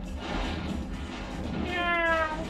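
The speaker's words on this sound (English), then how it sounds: "Cats!" Cats meowing in the Spyro 3 video game, several high, wavering meows rising near the end over a busy game background.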